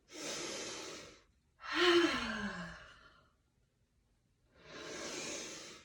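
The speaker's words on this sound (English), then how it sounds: "Really loud Ujjayi breaths, fall out breaths here." Three loud Ujjayi yoga breaths come close to the microphone as long hissing exhales, the middle one voiced like a deep sigh, separated by short silences.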